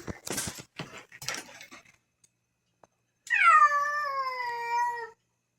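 A small kitten, about five pounds, meows once in a long drawn-out cry from inside a Harbor Freight animal trap, loud and close, after some brief rustling and handling noises.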